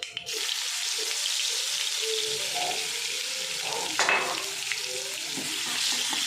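Cumin, mustard seeds and ginger-garlic paste sizzle in hot oil in a pan, a steady close frying hiss broken by a few scraping stirs of a spoon, with no talk.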